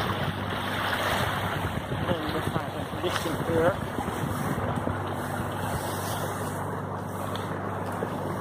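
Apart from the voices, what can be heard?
boat moving through water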